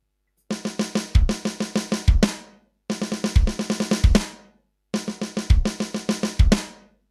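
A drum kit plays three quick repeated phrases of rapid six-note strokes, each punctuated by low bass drum thumps, with short pauses between phrases.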